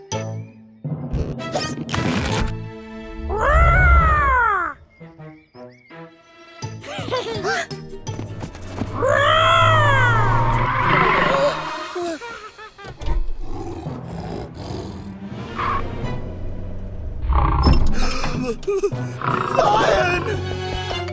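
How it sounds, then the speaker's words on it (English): A cartoon lion arriving at an animal sanctuary lets out loud, drawn-out roars and growls that sweep up and down in pitch, repeated several times, mixed with excited children's cartoon voices and music. "A new lion is coming to the animal sanctuary."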